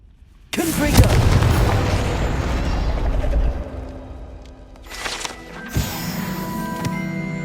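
A Confringo fire spell from Hogwarts Legacy goes off with a loud, booming explosive blast that rumbles and crackles for several seconds, then fades. A second, softer burst follows, and a voice is heard briefly.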